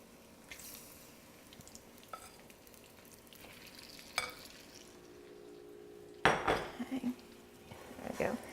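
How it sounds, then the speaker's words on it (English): Quiet kitchen sounds: occasional utensil clicks against a pan, then a burst of sizzling and scraping as chicken is stir-fried over heat. "Now I'm going to start stir frying the chicken."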